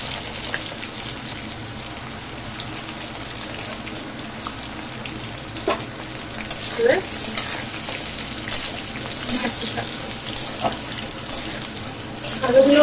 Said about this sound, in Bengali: আলুগুলো হালকা ভাজবো